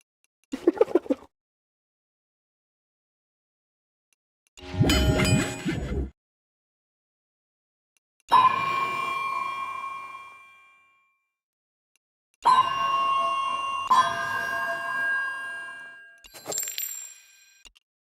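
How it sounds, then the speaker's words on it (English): Assorted game notification and alert chimes from a sandbox building game, several separate ringing dings and clangs with long decaying tones, each sounding alone with silence between. "Notification."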